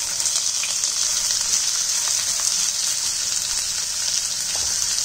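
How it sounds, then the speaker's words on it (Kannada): Onions frying over medium flame with cinnamon, bay leaf and cumin for restaurant-style palak paneer, giving a steady, close, even sizzle with no gaps or talk. "ಮೀಡಿಯಂ ಫ್ಲೇಮಲ್ಲಿ ಇಟ್ಕೊಂಡು ಇದನ್ನು ಸ್ವಲ್ಪ ಫ್ರೈ ಮಾಡ್ಕೊಂಡು ಈ ಫ್ರೈ ಆದಮೇಲೆ ನನ್ನಲ್ಲಿ ಈರುಳ್ಳಿ ಸೇರಿಸ್ತಿದ್ದೀನಿ"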